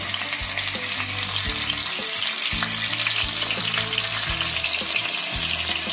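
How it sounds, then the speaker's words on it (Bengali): Pieces of pangas fish dropped into hot oil fry with a loud, continuous, dense crackle and sizzle heard close up, with faint clinks of the pan beneath and no talking. "আমার তেলটা গরম হয়ে গেছে, এবার আমি একটা একটা করে মাছ আমি দিয়ে দিব।"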